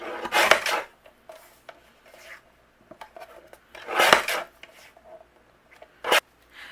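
A paper trimmer slices through dark gray cardstock, cutting narrow strips with three separate scraping, rasping strokes spaced a few seconds apart. Quiet gaps fall between the cuts, with no talk.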